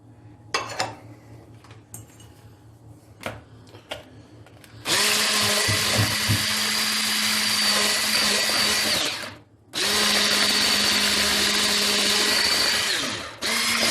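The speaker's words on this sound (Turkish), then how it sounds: "Karıştırmaya devam ediyoruz." An electric hand mixer whirs loudly and steadily as it beats four eggs with sugar into a wet cake batter, starting after light clinks of utensils, briefly stopping, then running again to the end.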